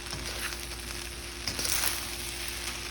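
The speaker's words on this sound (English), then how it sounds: "So just keep frying." Steady, close sizzle of rice frying in a pan for shrimp fried rice with garlic butter, a constant crackling hiss with a slight swell near the middle as the rice is moved.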